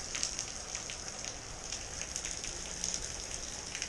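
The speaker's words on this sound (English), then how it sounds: "big storm right now. Lightning, thunder, all kinds of weather watches going on." Steady, dense patter of heavy rain hitting surfaces during a thunderstorm, a constant hiss with no voices.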